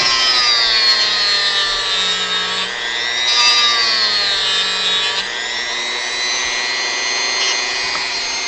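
A steady high-pitched whine of a small power tool with a saw blade carving the rear leg of a wooden model, running continuously with slight shifts in pitch and no talking.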